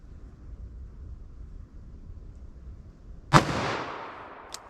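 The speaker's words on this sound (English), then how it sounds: "So this next shot should be more accurate." A single heavy-caliber revolver shot, either 10mm or .44 Magnum, cracks sharply after several seconds of quiet outdoor background, followed by a long rolling echo that fades away and a small click at the end.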